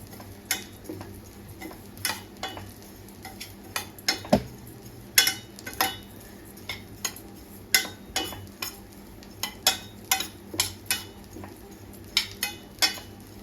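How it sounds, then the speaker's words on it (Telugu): Oats being dry-roasted on a low flame in a pan, with a spoon stirring and scraping, producing sharp irregular clicks and taps over a faint sizzling background, with no talking. "ఓట్స్ కూడా వేపుకోవాలండి సిమ్లోనే పెట్టుకొని వేపుకోవాలి"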